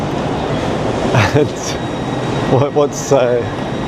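Steady low rumble of a moving train carriage interior on an Edinburgh rail journey, continuous and smooth, with a few brief speech-like bursts over the hum.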